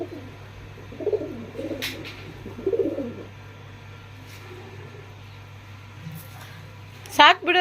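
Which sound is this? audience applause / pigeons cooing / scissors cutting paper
pigeons cooing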